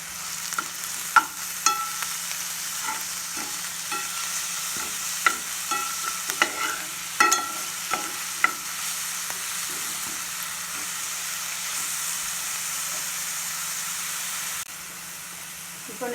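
Fried onions with ginger garlic paste are stirred in a pan for an egg gravy. A steady sizzle runs underneath while the spoon clinks and scrapes against the pan in irregular taps, close and moderately loud.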